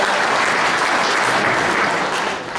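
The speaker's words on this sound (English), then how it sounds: "a quick stand and round of applause, please." A political rally crowd gives a standing round of applause, dense continuous clapping at close range that holds steady, then begins to fade at the end.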